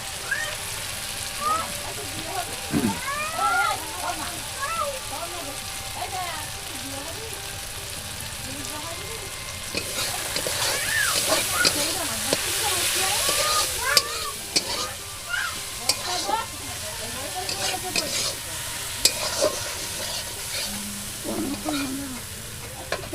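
Steady sizzling of onions and tomatoes frying in a pan on a clay stove, with scraping stir strokes throughout and a louder burst of sizzle midway; faint speech in the background.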